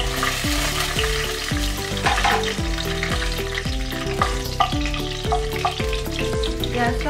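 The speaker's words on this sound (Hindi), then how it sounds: "सबसे पहले मैं ड्राई फ्रूट को भून लेती हूँ।" Cashews, raisins and other dry fruits frying in hot oil over a low gas flame, a loud continuous sizzle with a regular metallic tapping rhythm running through it, and no talking.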